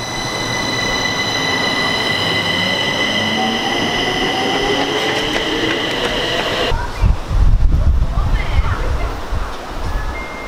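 A train rumbles past loudly and close, its wheels squealing in drawn-out tones over a dense roar, then the sound shifts abruptly to heavy low thumping and clatter as cars go by.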